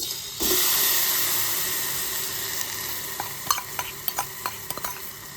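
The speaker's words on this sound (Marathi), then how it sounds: "हे थोडंसं अर्धा चमचा तूप घातले, तर त्याच्यातच गूळ घालते" Jaggery added to half a spoonful of ghee in a pan sizzles in a sudden burst, then fades as it melts over low heat, followed by a few distinct scraping taps of a spoon stirring against the pan.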